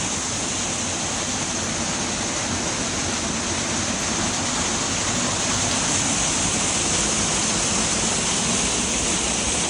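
Iavardi waterfall in the Noșcolat mountains roars as a loud, steady broadband rush of falling water, close and continuous throughout with no voices.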